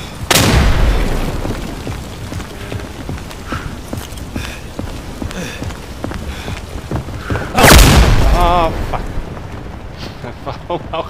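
Two heavy grenade blasts boom in the Day of Infamy video game on the Reichswald map, one right at the start and one later. Scattered thuds and clatter fill the gap between them.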